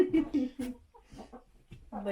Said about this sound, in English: Lazy chickens.